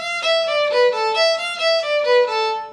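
A fiddle plays a short jig phrase, each note bowed separately with an even, steady attack, bright and close.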